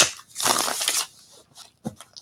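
A deck of tarot cards is shuffled in one brisk riffling burst lasting under a second, followed by a few soft card taps and handling sounds, close and alone without talk.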